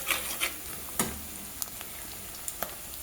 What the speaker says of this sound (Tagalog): Kailangan kong maggisa.